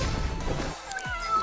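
A performer's voice mimics a cat's meow in a short, bright, rising cry on a festival stage, loud and close over a brief burst of background noise.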